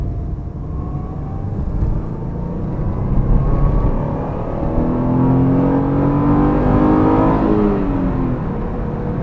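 A 2007 Subaru Impreza 2.0 with 160 hp, driven through town in the evening: its engine revs up steadily in a rising whir and drone inside the car, loud and continuous, with no speech.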